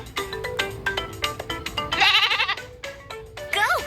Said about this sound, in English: Goat. Goat has horns.